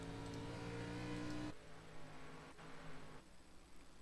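In-car engine roar from a race car on track during a race, a steady loud drone that shifts pitch abruptly as gears change and the revs drop and climb again, with no voices.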